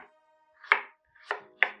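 A knife slices through fresh ginger on a cutting board for chicken curry, three crisp, close chops spaced unevenly in an otherwise quiet kitchen.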